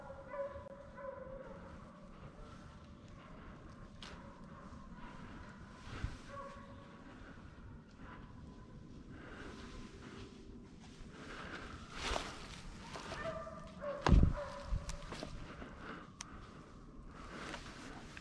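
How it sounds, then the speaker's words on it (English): Hunting dogs bark, yip and whimper during a deer dog drive in the woods, scattered calls at varying distance with rustling footsteps, plus a few louder close barks near the end. "Dogs are running all over the place."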